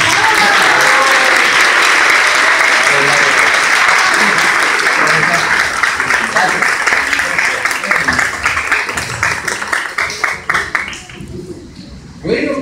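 Audience applauding after a guest teacher is introduced at a Spanish-language radio literary event, a dense, loud sustained clapping wash that thins and fades toward the end.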